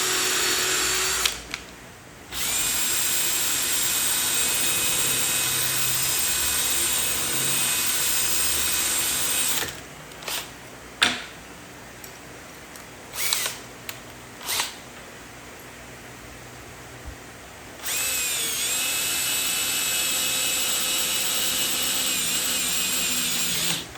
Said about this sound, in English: I'm gonna drill a hole through here and screw it right into there